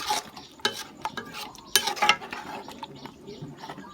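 A spoon scrapes and clatters through a pot of Thai fish curry sauce made from snakehead fish for rice noodles, a few close bursts of scraping and soft sloshing with brief pauses.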